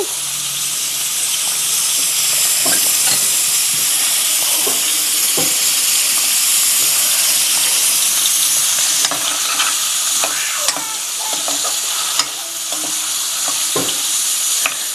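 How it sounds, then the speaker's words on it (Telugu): Paneer frying in a pan for gongura paneer gives a loud, continuous sizzle and hiss, broken by occasional scrapes and clicks of stirring, with no talking. "ఇదిగో ఇలా వేగుతూ ఉంటుంది కదండి"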